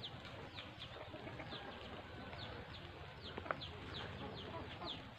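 Soft, scattered clucks from chickens in a garden over the steady hiss of falling rain, with a few faint chirps and one brief knock.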